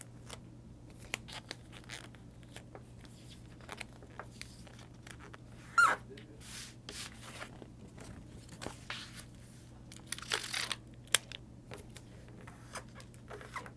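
Double-sided tape is peeled and pressed onto a paper record sleeve, giving soft scattered crinkles, short tears and light taps over a low steady hum, faint and close.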